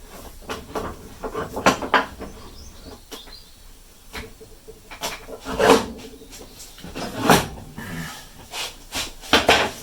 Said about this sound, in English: So we can pop this in the vise.